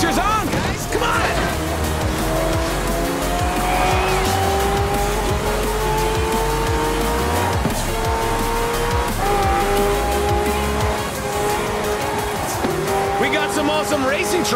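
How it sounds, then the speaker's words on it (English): Racing trucks and hypercars roar along a crowded street race in Forza Horizon 4, engines droning and shifting pitch continuously with tire squeal, loud and steady throughout, with voices over the top. "Some awesome racing trucks out there"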